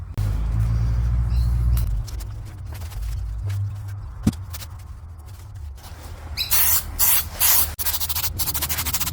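An aerosol can sprays paint onto a Camaro differential cover, giving a steady hiss over a low background hum, then several short, louder spray bursts near the end.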